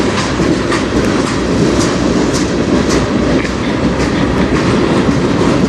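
A long CN freight train rolls past on the Strathroy Subdivision just a few feet away: a loud, continuous rumble with rhythmic wheel clatter and steady roar filling the whole stretch, no voices.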